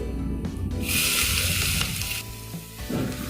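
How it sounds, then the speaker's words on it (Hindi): Garlic-ginger paste frying in hot oil with cumin and fennel seeds, a loud, steady sizzle that surges after a brief moment and then eases, with stirring noises close by. "इन दोनों चीज़ों को अच्छे से भून लेते हैं आधे मिनट के लिए, जिससे इसकी कच्चापन चला जाए"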